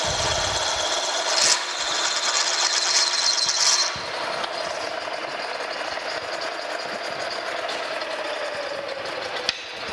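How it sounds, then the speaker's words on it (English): A drill whines steadily as it bores through cast iron on a metal planer, with a few sharper scraping bursts early on, close-up and continuous, no talking. "let's just drill right down through there"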